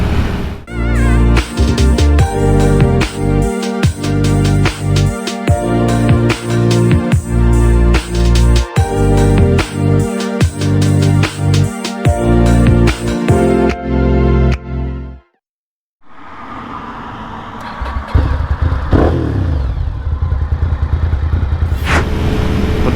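A Ducati Sport Classic 1000S is opened up and pulls hard, a loud, close, steady engine roar that cuts out briefly before wind-buffeted riding noise resumes.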